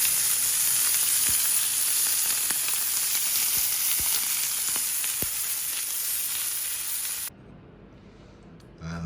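Steak frying in a pan, giving a loud, dense sizzle with crackling pops that runs steadily, then cuts off sharply near the end before a brief return.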